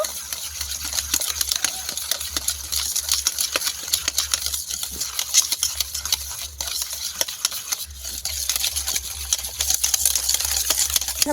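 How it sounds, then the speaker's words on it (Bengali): Sour yogurt being whisked with condensed milk in a bowl, a continuous close scraping and clicking of rapid stirring strokes over a low steady hum, with no voices. "নেড়ে চেড়ে ভালোভাবে ফেটে নিতে হবে যাতে কোনো টক দইয়ের ডেলা ভাব না থাকে।"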